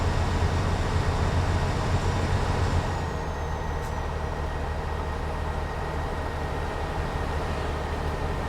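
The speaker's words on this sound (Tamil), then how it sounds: "ட்ரெயின் போகுது பார்த்தீங்களா?" A train rumbles past in the Euro Truck Simulator 2 game, heard as a steady low mechanical drone from a truck hauling a Belly livestock steel trailer; loud, continuous, no speech.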